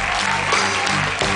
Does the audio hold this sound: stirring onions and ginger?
no